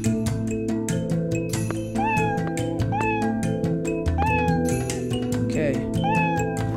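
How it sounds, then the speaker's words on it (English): Video game cats meowing repeatedly in short rising and falling cries over busy game music and sound effects, loud and close throughout, with a person talking over part of it. "I need to watch out for them cats."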